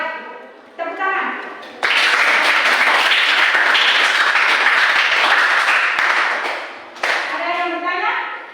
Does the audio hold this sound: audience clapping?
yes